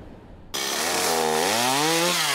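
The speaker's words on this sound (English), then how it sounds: "The sound of chainsaws filled this Madison neighborhood just off East Washington, mere hours after what appears to be a direct hit from a possible tornado" Chainsaws cutting through storm debris in a Madison neighborhood after a tornado, starting abruptly and running steady and loud, the engine pitch rising and falling as the saw bites into wood.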